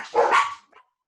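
A single dog barks once, loud and close, a sharp bow-wow followed by a faint short tail-off, then silence.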